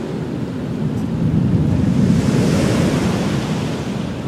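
Surf rolling in and breaking on a shoreline, a steady wash of churning water that swells and holds loud through the middle, with wind buffeting the microphone throughout and no voices.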